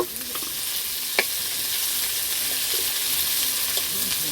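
Onion and chili fry loudly in a pan for chowmein, a dense continuous sizzle with a few faint scrapes and knocks of a utensil and no talking.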